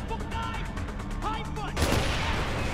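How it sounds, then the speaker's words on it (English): Gunfire and a heavy explosion from the Far Cry 4 video game, a dense burst of shots followed by a loud broadband blast near the end, with some game voice sounds early on. "Boom! Scary explosions!"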